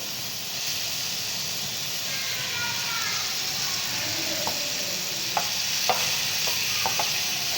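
Tomato masala fries in a pan with a steady sizzle and hiss, while a spoon scrapes and stirs, giving sharp clinks toward the end; close and moderately loud, with no talk.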